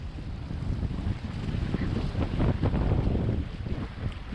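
Steady wind roaring across a microphone on a sailboat approaching a break wall, with big southeasterly swells rolling in and water washing against the hull, continuous and close with no talk.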